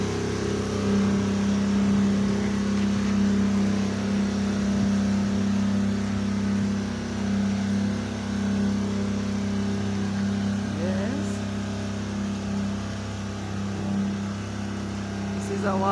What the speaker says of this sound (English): A water truck here supplying water.